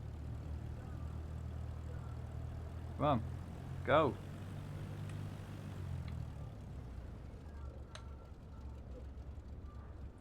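A propeller aircraft engine in a flight simulator game drones steadily and low throughout, while someone speaks briefly over it.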